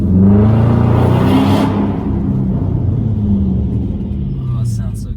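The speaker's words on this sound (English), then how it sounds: "custom holds the shifts longer, and right there, that downshift sounds so good" A 2021 Dodge Charger Scat Pack in custom drive mode, its engine giving a loud, deep, close rumble through a downshift, with brief talk underneath.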